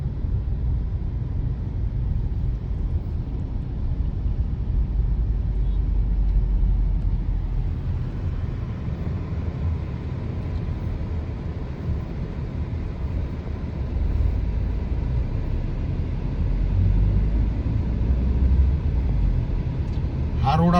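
A car carries people along the Dhamangaon road from Moha Phata to Darda Nagar in Yavatmal on a morning drive; a steady low road and engine rumble fills the cabin throughout.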